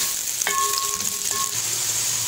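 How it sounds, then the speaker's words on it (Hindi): Onions frying until golden in hot oil for a home-cooked tinday dish, a steady close sizzle that hisses on without pause, with a few faint tonal clinks partway through. "तेल गरम हो रहा हो चुका है। अब प्याज डाल रहे हैं, गोल्डन फ्राई करके फिर बकाया चीज़ें डालेंगे।"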